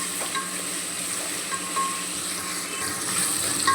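Onions frying in a pan with salt while being stirred, a steady close sizzle with a soft scraping and stirring texture throughout, fairly quiet and without voices.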